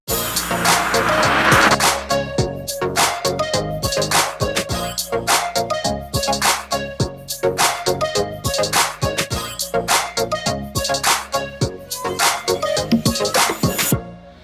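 A vintage Porsche with a Subaru engine swap driven through a parking structure in Long Beach, its engine note loud and close with sharp repeated clicks and thumps echoing off concrete, and no speech.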